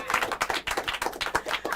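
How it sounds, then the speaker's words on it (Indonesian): Audience applause at an Indonesian open mic comedy event: a short burst of many hands clapping together, fairly close and steady, with no one speaking over it. "Tepuk tangan dong."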